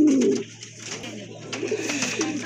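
Danish pigeons kept for sale, a white tiger-coloured pair among them, give low rolling coos close by, the loudest at the start, over a steady electrical hum.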